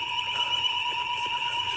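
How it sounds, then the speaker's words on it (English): A school fire alarm rings steadily with a sustained, piercing electronic tone that stays loud and unbroken throughout, with no voices over it. "I just pulled the fire alarm."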